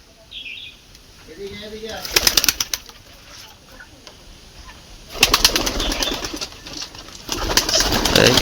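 Pigeons in a farm loft flap their wings and shuffle in loud bursts, with a few soft coos and chirps between them and little talk.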